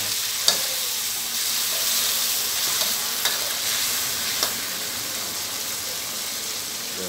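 Pork mask frying with onion and a splash of fish sauce in a hot wok, giving a steady close sizzle broken by a few sharp scrapes and clinks of the spatula as it is stirred.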